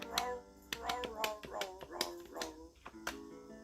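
A children's musical instrument toy plays a series of electronic barks, sharp repeated yaps in an uneven rhythm, close and clear.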